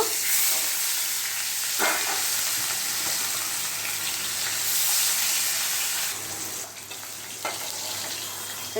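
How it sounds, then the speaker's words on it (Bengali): Rohu fish pieces fry in hot oil in a wok with a soft, continuous sizzle and hiss, a few sharper spits and bursts breaking through, and the frying dips quieter toward the end. "তেল গরম হয়ে গেছে, আমি মাছ তেলে দিয়ে দিচ্ছি ভেজে নেবার জন্য।"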